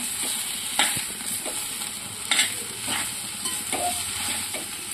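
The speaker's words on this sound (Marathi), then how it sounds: "आलू आपण खिसून घेतलेला आहे, छान मिक्स करून घेऊया।" Grated boiled potato being stirred and mixed with spices by hand or spoon for aloo tikki burger patties, giving soft, irregular scraping and mashing strokes close by with no talking.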